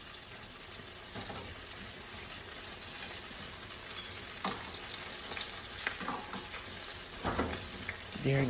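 Saltfish fritters frying in hot oil make a steady, quiet hiss and crackle, broken by a few soft clinks and taps nearby.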